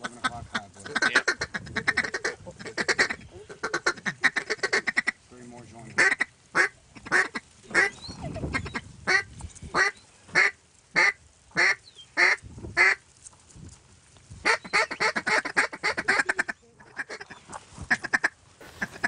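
Duck call blown on public land during a hunt, a run of short, sharp single quacks and choppy feeding-call bursts, loud and close, with someone talking before and after the calling.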